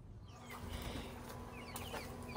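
Chickens in a farm shed give soft, scattered clucks against a steady low background hum, fairly quiet with no talk.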